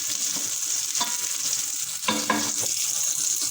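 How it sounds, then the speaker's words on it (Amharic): Garlic sizzles in hot oil with a steady, bright frying hiss, broken by a few clattering stirs of a utensil in the pan near the middle; no voices. "የጋለ ዘይት ላይ ነጭ ሽንኩርታችን አድርገን እንደዚህ"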